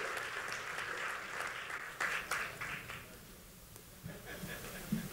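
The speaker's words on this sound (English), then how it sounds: "We need one more round of applause for Craig." A community volunteer awards crowd claps for Craig, a faint, scattered round of applause that swells briefly, thins out, then picks up again with a few stray claps at the end.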